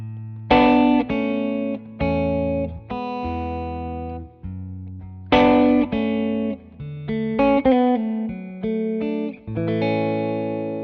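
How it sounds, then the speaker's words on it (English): An electric guitar with effects plays a melody laced with non-chord tones over sustained chords, phrases rising and falling in distinct plucked notes, clear and upfront with no voices. "start putting in some non-chord tones into the melody to add suspense, like this"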